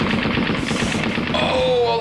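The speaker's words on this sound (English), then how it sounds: "And then the machine gunner opened up" Machine gun in the Tuk Lai wargame firing rapid, dense bursts of gunfire, loud and sustained, with tonal game sound effects entering near the end.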